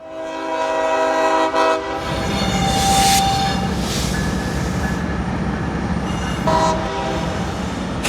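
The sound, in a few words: passing train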